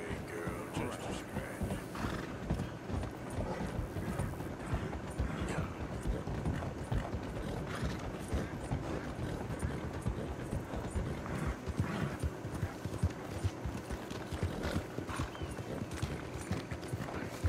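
Horse hooves clip-clop at a steady trot throughout in the video game Red Dead Redemption 2, mixed with game ambience and someone talking over the rhythm.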